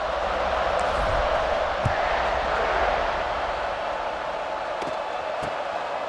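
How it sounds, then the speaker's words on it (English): Stadium crowd at kickoff in EA Sports College Football 26, a steady broad roar filling the whole stretch with a few faint thumps and cheers, loud and continuous throughout. "this crowd now ready to get behind them"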